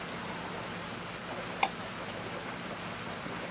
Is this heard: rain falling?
yes